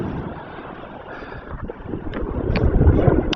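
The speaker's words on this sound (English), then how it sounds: "The wind will nearly take that across because it's coming from the west" Wind blows across the open shore of Pakefield Beach in Suffolk, a steady broadband rush that swells louder toward the end with gusty buffeting against the microphone and no talking.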